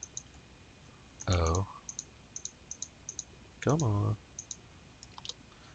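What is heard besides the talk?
computer mouse clicking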